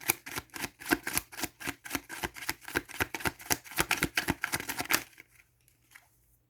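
Oracle cards being shuffled in quick, steady riffs, a dense run of crisp papery slaps for about five seconds before stopping into near silence.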